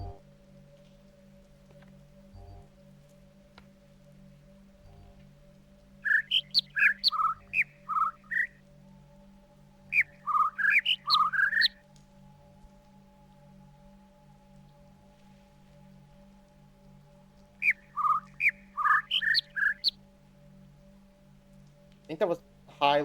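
Short bursts of high bird chirps come in three separate clusters over a steady low hum, with quiet gaps between them and no speech.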